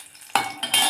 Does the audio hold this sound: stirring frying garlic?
yes